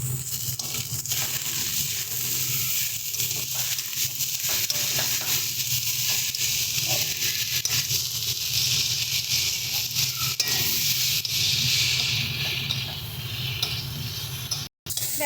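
Mixed vegetables with shrimp, spices and salt being stirred in a pan, a continuous dense sizzle with scraping and shuffling of the ingredients, close and steady throughout before a brief cutoff at the end.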